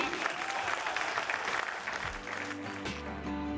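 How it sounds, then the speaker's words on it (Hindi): An audience applauds after a Hindi poetry recitation at a university event, dense steady clapping filling the hall throughout, with a few tonal sounds from the stage system appearing near the end. "हरिओम पवार जी ने अपनी कविताओं से सभी श्रोताओं को तालियां बजाने पर मजबूर कर दिया।"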